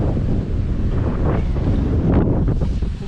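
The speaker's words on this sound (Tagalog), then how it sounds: "Lakas ang hangin, sarap." Strong wind roars and buffets the microphone continuously, with heavy low rumbling gusts throughout and no talking.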